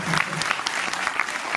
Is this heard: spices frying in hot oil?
no